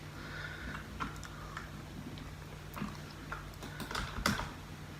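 Light clicking keystrokes on a computer keyboard, scattered and irregular, fairly quiet and close, with no talking.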